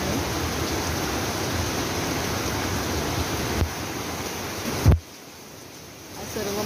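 A flooded river swollen by monsoon rain in Dapoli rushes with a loud, constant broadband roar, briefly bumped by a thump near the end before settling into a softer wash.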